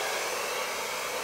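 Air blown over a paint pour canvas: a steady, loud hiss of rushing air, like a hair dryer, continuous for the whole brief moment.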